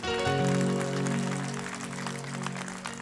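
An audience at a Hindi devotional song gathering claps for sisters and daughters, a brisk crackle of applause over sustained musical tones.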